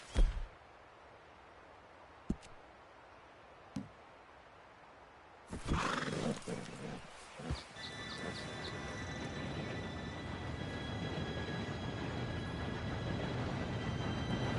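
Steam train arriving in Red Dead Redemption 2: after scattered sharp knocks over a quiet background, a loud rushing roar of the approaching locomotive swells in and holds, with faint high squealing tones and clanks, no talk.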